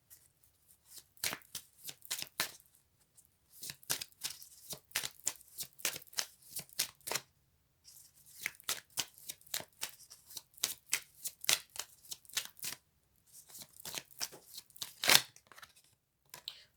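A deck of cards is shuffled repeatedly during a French love-themed card reading, giving crisp riffling bursts in quick clusters with short pauses between them, close and clear with no talking.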